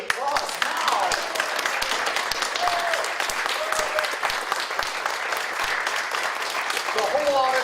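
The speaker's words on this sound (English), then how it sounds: "The whole auditorium is standing and applauding." A big auditorium audience, standing, claps in sustained, dense applause at a church general conference, with faint voices and cheers scattered through it.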